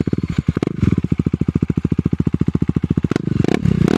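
A motorcycle revving with its exhaust removed, loud and close, its engine firing in rapid, raw staccato pulses that quicken and swell toward the end.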